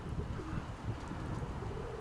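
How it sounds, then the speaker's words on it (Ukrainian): A pigeon coos with soft, low, throaty calls close by, repeated in short murmuring phrases over a quiet background. "ось Валерина голубка."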